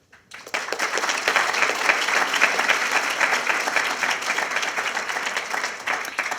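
An audience at an art exhibition talk bursts into applause to thank sponsors, a dense, sustained clapping that starts suddenly and holds evenly for several seconds.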